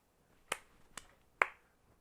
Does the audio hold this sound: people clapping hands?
yes